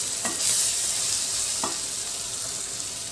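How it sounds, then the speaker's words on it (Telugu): Onions frying well in a pan for Andhra-style mutton curry, a bright continuous hiss and sizzle heard close up, with two soft stirring scrapes and no speech. "మనకి ఆనియన్స్ బాగా ఎగిపోయి కదా ఎప్పుడు మనకి ఆనియన్స్ బాగా ఎగిపోవాలి"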